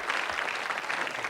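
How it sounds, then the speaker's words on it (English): A pub quiz night audience gives a brief round of sympathetic applause, steady and fairly close, with a murmur of voices underneath. "Sympathetic applause."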